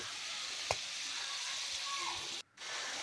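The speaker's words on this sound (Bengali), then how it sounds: "তো আমি একটু কষিয়ে নিচ্ছি" Radish pieces, cut long, sauté in a pan for a pangas fish curry. A continuous close sizzle carries one sharp utensil tap and a brief break in the frying noise toward the end, with no talking.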